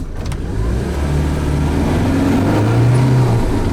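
A heavy 2011 Land Rover Defender engine roars as the vehicle accelerates, its pitch climbing steadily; loud and close, with no talking.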